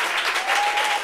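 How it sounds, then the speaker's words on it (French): Studio audience at a French talk show breaking into applause, a short dense patter of clapping heard on its own. "Applaudissez pour elle."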